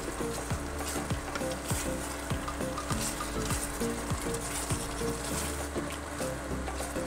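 Chicken with onions and masala frying in a pan for a bachelor-style chicken fry, a constant loud sizzle broken by regular scraping strokes of a stirring spoon, close and unbroken by talk.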